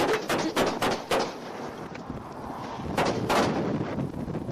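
Gunfire in a police traffic stop shootout during a training scenario: a series of sharp, loud shots in bursts, several in quick succession and then a second cluster, over steady outdoor background noise.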